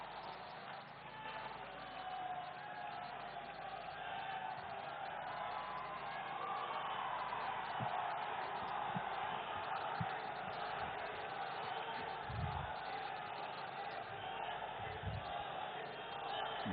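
Large crowd at a Bhagalpur political rally welcoming Prime Minister Narendra Modi, a continuous wash of clapping and cheering heard from a distance, with a few louder shouts standing out.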